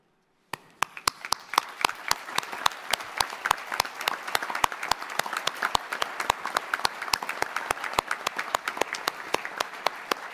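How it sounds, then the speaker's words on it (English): Audience applause at a university graduation ceremony for medical, biomedical and business schools, starting abruptly and continuing as a dense, steady stream of many crisp claps from a large crowd in a hall. "I certainly think all that support's worth a round of applause"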